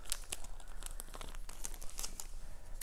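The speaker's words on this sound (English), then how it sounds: "I'm just gonna take it out very carefully as to not damage Caleb's cards" Basketball trading cards slid out of crinkly plastic packaging, a steady close-up run of dense crackling and rustling with sharp snaps scattered throughout, no voices.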